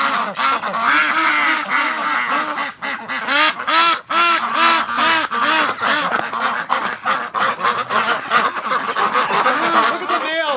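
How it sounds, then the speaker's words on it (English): A flock of domestic breeding ducks quacking and honking loudly and continuously outdoors on a windy morning, dense overlapping calls with no pauses. "That's just crazy, ducks. Well, they're making lots of noise."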